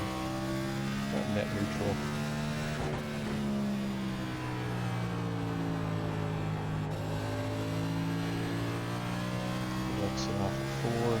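A NASCAR NextGen race car in the iRacing sim at Richmond, its engine droning loud and steady while revving and pulling under power, with someone talking over it.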